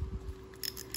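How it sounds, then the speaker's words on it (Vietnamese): Bail of a Shimano size-2000 spinning fishing reel flipping over, giving a couple of short, sharp mechanical clicks close up after a low handling rumble. "Đây là tiếng lưỡi gạt của máy nha."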